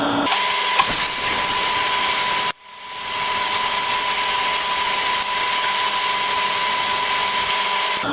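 Stick welding with 309 rod puts tack welds on bolts during a VW 1.8T 20-valve engine build, joining dissimilar metals. A steady, close crackling hiss runs with a brief break partway through, with no talking.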